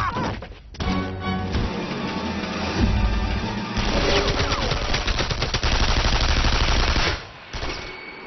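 A film scene erupts in loud, sustained machine gun fire: dense rapid bursts, crashes and impacts rolling on for several seconds with barely a pause, then easing slightly toward the end.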